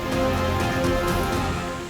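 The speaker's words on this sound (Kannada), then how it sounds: "ಬಿರುಗಾಳಿ ಸಹಿತ ಸುರಿದ ಮಳೆಗೆ ರಸ್ತೆಗಳೆಲ್ಲ ಜಲಾವೃತವಾಗಿದ್ದು" Heavy pre-monsoon rain with strong wind in Karnataka, flooding the roads, as a dense, steady hiss of downpour that stays loud and unbroken throughout, with no voices.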